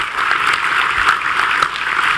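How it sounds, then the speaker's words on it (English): Audience applause at a state wine, beer, spirits and cider summit, a steady, dense clapping from a large indoor crowd sustained evenly throughout, loud and alone with no talking over it. "Let's give him a round of applause for his good work."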